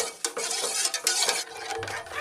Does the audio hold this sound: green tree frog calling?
no